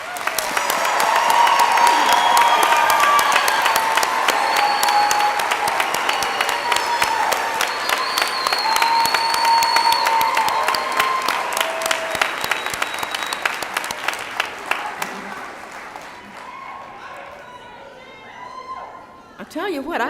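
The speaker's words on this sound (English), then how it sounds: "one round of applause for our graduates" A large audience at a university commencement applauds steadily, dense clapping with some cheering, sustained loud for most of the time before thinning out near the end.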